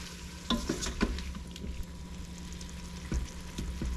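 Food sizzles in a Ninja Foodi Pro pan, close and fairly quiet, while a utensil stirs it with scattered scrapes and clicks over a steady frying hiss.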